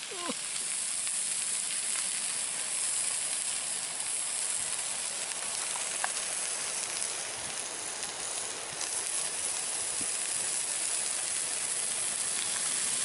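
A small alcohol camping stove burns steadily at a freezing winter tarp campsite, giving a continuous soft roaring hiss that holds level throughout with no pauses.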